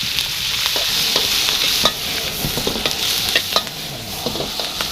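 Mixed vegetables with minced pork stir-fried hard at a Thai street food stall, a steady loud sizzle broken by repeated clanks and scrapes of the spatula against the wok, with no talking.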